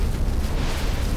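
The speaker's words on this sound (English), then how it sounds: "The explosion happens at 3:16 p.m., an hour and 7 minutes into the flight." A jet engine on a DC-10 airliner explodes in flight at cruising altitude, heard as a dense, roaring broadband blast that fills the whole moment at steady high loudness without any break or voice.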